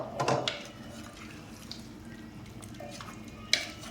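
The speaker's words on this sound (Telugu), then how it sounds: "మనకి మటన్ ఉడకాలి కాబట్టి కొంచెం వాటర్ పోసుకుందాం" Water poured into a pot of mutton curry with tomato juice, a soft trickling splash that fades under quiet kitchen clatter, with a brief louder knock near the end.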